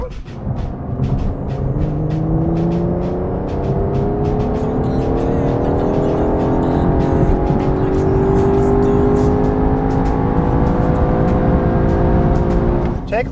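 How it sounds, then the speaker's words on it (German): An Aston Martin DBS Superleggera accelerates hard in third gear with wheels spinning, its engine note climbing loud and close for over ten seconds with rising harmonics and a brief roar before easing off at the end. "aus dem dritten Gang, aber nicht Vollgas, weil die Räder drehen durch"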